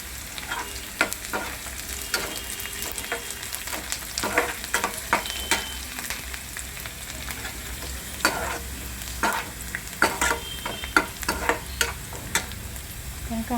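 Curry leaves hitting hot oil for a pea and potato bhaji, a steady sizzle with repeated sharp scraping stirs and taps of the spoon against the pan throughout.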